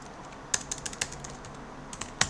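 Typing on a computer keyboard while entering system update commands, a few light keystrokes tapped in an irregular rhythm with pauses between them and one sharper key press near the end, quiet and close with no voices.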